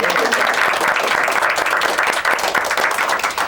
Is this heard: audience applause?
yes